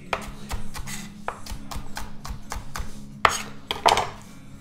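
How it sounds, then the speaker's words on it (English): A knife chops peppers and onions for chicken fajitas on a cutting board, a rapid run of close, crisp knocks in an uneven rhythm, with a couple of louder thuds near the end. "I cut up some peppers and onions."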